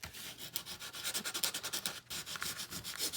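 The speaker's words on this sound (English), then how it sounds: "You can sand it and it looks grungy." Sandpaper rubbing over grungy paper for a Christmas junk journal, a steady run of close, rhythmic scratchy strokes with a brief pause partway through.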